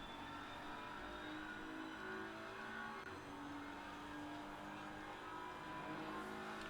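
A race car in a sim racing game at Silverstone holds a steady, droning engine note throughout, with faint tire noise and no breaks, heard from inside the cockpit.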